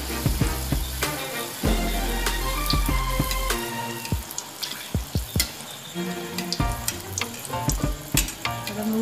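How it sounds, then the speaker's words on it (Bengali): Palm-fruit malpua frying in oil, a steady close sizzle with scattered bubbling pops and a few clinks of a utensil, no talking. "মালপোয়াটা ভাজা হয়ে গেছে"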